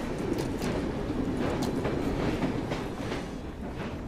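Steam-era train rolling on rails in the video game Assassin's Creed Syndicate, a steady dense rumble with rhythmic clickety-clack of wheels over rail joints, continuous and close throughout with no talk.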